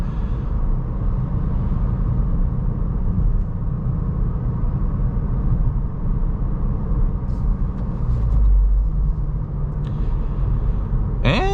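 A 2024 Volkswagen Golf R with a manual gearbox cruises around town, its steady low engine and road rumble heard from inside the cabin, with a brief faint swell near the end.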